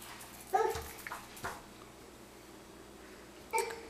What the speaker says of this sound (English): Hi, little dog.